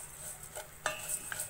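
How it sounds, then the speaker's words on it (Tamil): Vermicelli roasting in ghee for almond gum payasam, a faint hiss under a few sharp metallic scrapes and clinks of a spoon against the pan, quiet and close. "நெய்யில் சேமியா வறுக்கிறதுனால சீக்கிரம் வந்து பாயசத்தில் சேமியா போடுறப்ப வெந்துடும்"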